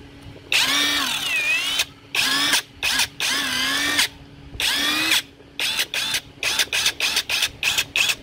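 A cordless drill with adjustable speed settings whines in bursts, each one rising and falling in pitch. The first few runs last about a second each, then give way to a quick series of short, loud triggers close by.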